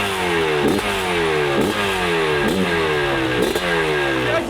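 A loud, close 491 cc two-stroke motorcycle engine revs repeatedly, its pitch rising and dropping in a steady cycle about once a second.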